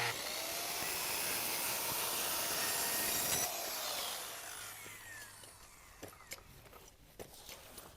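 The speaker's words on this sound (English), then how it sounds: "At the rake, the shingles need to be cut to match the roof pitch." A circular saw rips through asphalt roof shingles held in a pitched sled at the rake of a shed roof, a loud sustained whine for about four seconds that then winds down, followed by scattered light knocks and handling noises.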